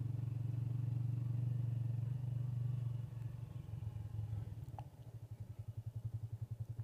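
Motorbike riding along a rough, unlit rural road toward the Srigethuk waterfall, engine droning steadily then shifting to a pulsing, chugging idle as it slows; near and continuous, no talk.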